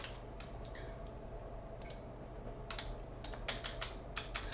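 A web address being typed on a computer keyboard, faint scattered key taps at first that quicken into a brisker run of clicks toward the end, quiet and close.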